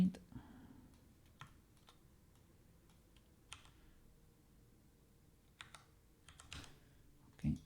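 Scattered keystrokes on a computer keyboard, a few isolated clicks and short bursts spaced irregularly, fairly quiet over a low background hum.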